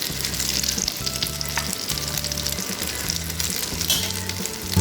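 Duck egg omelette frying in oil on a flat griddle, a steady close sizzle and crackle that runs throughout, with a faint low hum beneath.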